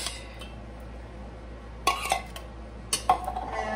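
Condensed cream of celery soup goes into a cooking pot for Swedish meatball gravy, a quiet background then two brief clusters of metallic clinks and scraping from a can and utensil against the pot.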